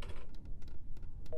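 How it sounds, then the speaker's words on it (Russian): A telephone being dialed in the horror game Centralia: Homecoming, a short run of separate clicks and button beeps ending in a brief electronic tone. "Телефон."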